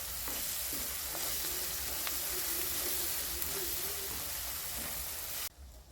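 Chicken leg pieces fry steadily in a pan in a village kitchen, a close, continuous sizzle with light stirring scrapes throughout, cutting off abruptly near the end.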